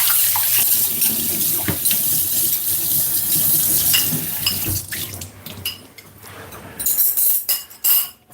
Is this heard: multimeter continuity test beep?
no